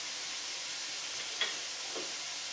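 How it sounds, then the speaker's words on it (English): Bacon crisps and renders in a pan with olive oil, giving a faint, steady sizzling hiss with a couple of soft pops. "We're gonna let our bacon crisp up a little bit, render down some of the fat"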